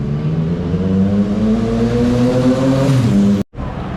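Busy Bucharest city street traffic, with a close engine revving and droning steadily before cutting off abruptly near the end.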